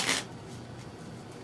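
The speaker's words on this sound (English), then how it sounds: "We'll give this a quick shuffle here." A deck of playing cards gets a quick shuffle, one short riffling burst close by, followed by a quiet room.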